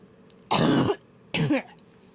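Two harsh coughs, close and loud, separated by a short pause, with quiet in between.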